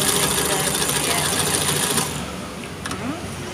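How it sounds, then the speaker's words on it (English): A household sewing machine stitching zigzag with a zigzagger attachment, a loud steady mechanical whir with fast rhythmic needle chatter that then drops to a quieter run near the end. "nindot ka ayaw ni nga sewing machine, gidagan siya o stitches"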